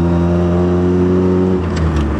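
A Bridgeport-ported turbocharged Mazda RX-7 rotary engine runs on its first startup, a loud, close, buzzy steady idle that dips and roughens near the end.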